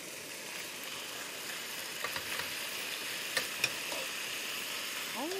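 Pork sizzling in a preheated frying pan, a steady quiet hiss with a few small pops and clicks, no talking.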